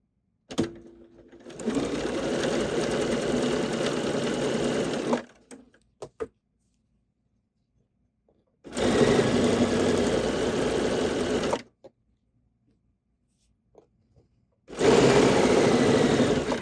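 A sewing machine stitches a seam to gather fabric in three separate runs of steady whirring, each a few seconds long, separated by quiet pauses with small clicks.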